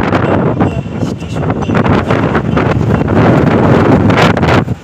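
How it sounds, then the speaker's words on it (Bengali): Strong wind blows outdoors, buffeting the microphone with a loud, continuous rushing roar that surges and dips throughout. "খুব হাওয়া বাতাস চলছে"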